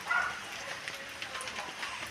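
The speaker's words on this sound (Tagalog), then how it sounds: "Oh, ulan po ng ulan." Rain falls steadily around a hut, a soft continuous patter near and fairly faint, with no voice.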